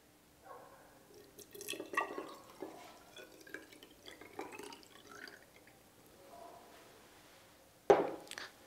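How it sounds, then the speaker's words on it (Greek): Water emptied from one container into another differently shaped one in a school physics demonstration, heard as soft trickling and splashing in bursts, close and fairly quiet, ending with a sharp clink of the vessel. "Παίρνω ένα άλλο είδος δοχείου με διαφορετικό σχήμα και αδειάζω το νερό."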